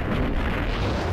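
Grenade blast in the Max Payne video game, a loud, dense rumbling boom that fills the whole moment with no pause, close and heavy with no voice over it.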